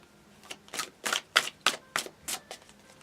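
Tarot cards are riffle-shuffled in a quick series of about eight crisp, papery bursts, each pausing briefly before the next, close and clear with no talk.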